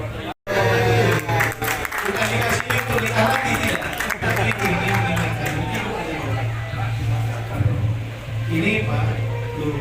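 A crowd applauds the tourism minister during a visit to Penyengat Island, steady clapping under a persistent low hum, with voices and crowd noise mixed in.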